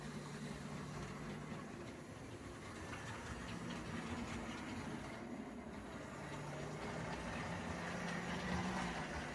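A Warship diesel model locomotive arrives on a model railway for a local service, giving a steady, close, continuous rumbling hum with a faint whine that swells slightly toward the end, with no talk.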